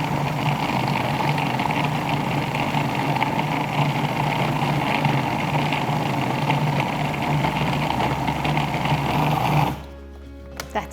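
A blender grinds almonds into almond butter with a loud, steady motor whine and a churning drone, then cuts off abruptly near the end.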